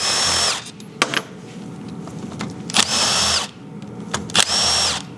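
Power tool on a Can-Am X3 turbo engine case being split, spinning out bolts in three loud sustained whirring bursts with clicks and handling clatter between them.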